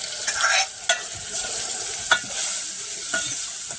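Mixed garam masala spice sizzles in hot oil in a pan while a spoon stirs it, a steady close frying hiss broken by several scraping stirs.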